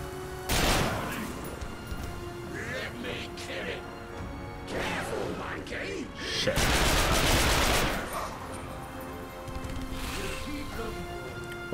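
Striker shotgun fire in the video game The Darkness 2: several heavy booming blasts and crashing impacts over a busy game soundtrack, with someone talking over parts of it.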